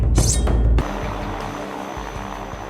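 Airplane engine in a Red Steel Wii video game cutscene, a loud burst of roaring noise in the first second dropping to a steadier, quieter engine drone that continues to the end.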